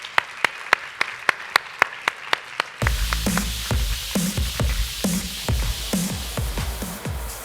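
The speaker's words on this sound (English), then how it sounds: "Give her a big round of applause." Audience at a hair color stage show breaks into sustained applause, a dense wash of clapping that follows a series of sharp, evenly spaced clicks and continues steadily to the end.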